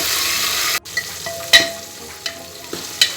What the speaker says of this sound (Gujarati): એક ટમેટું છે નાનું, એ પણ આપણે નાખી દઈશું અંદર. એને પણ સરસથી હલાવી લઈએ.